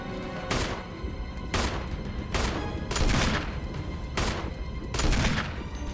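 Gunshots in the video game Resident Evil HD, six loud sharp blasts firing at a steady rhythm about one per second, each followed by a dense ringing tail.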